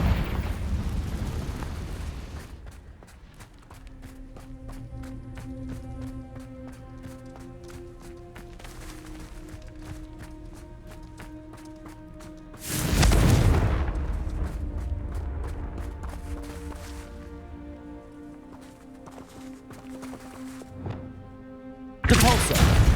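Confringo blasting spell in Hogwarts Legacy, one loud burst at mid-clip and a second at the very end, each a broad booming blast, set against sustained orchestral music with tonal lines throughout.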